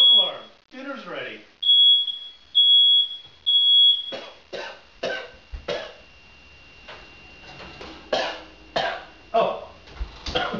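Three short, shrill smoke alarm beeps sound in even rhythm, followed by a run of coughing and throat-clearing noises.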